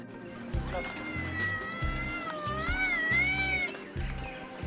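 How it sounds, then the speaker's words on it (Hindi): A tied-up cat in a village yard gives a long, wavering, drawn-out meow lasting a few seconds, close and clear, while people talk intermittently underneath. "ऐसा आपने ज़िंदगी में पहली बार देखा हुआ बिल्ली बांधी हुई है।"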